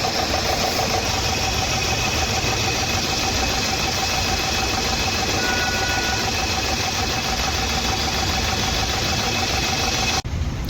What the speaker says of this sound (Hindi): और इसके लिए इसमें नॉकिंग का साउंड है कर करके